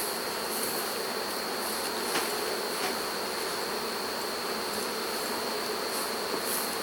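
Dense, steady buzzing of many honey bees, continuous and close, with no voices.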